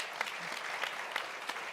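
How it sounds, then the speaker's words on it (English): Steady audience applause for a panel at an Arctic discussion event, a dense even wash of many hands clapping with no pauses throughout. "So please do give the whole panel a round of applause."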